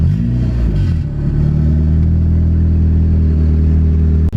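A turbocharged Honda Civic EF with a B18C4 engine idles steadily just after its first start, a loud, continuous low rumble close by with no talking.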